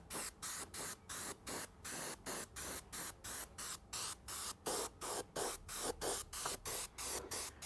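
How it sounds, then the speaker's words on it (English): Rapid, evenly spaced bursts of airbrush spray hiss in a steady pulsing rhythm as paint is sprayed from a distance onto a scale model, close and fairly soft, with no voices. "I'm spraying from some distance back just to give the cone of the paint spray enough space to spread out"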